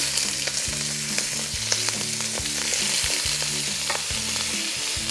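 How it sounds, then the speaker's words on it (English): Fresh vegetables stir-frying in sunflower oil in a pot make a loud continuous sizzle, broken by repeated scraping stirs and utensil knocks, with no voices. "I've got my pot going, and I am just gonna add some fresh veggies to it"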